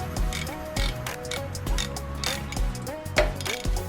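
Socket wrench turning and ratcheting on the cylinder head nuts of a 1965 Allstate SGS250 twin-port single motorcycle engine, a rapid run of close metallic clicks in repeated bursts with light mechanical clatter.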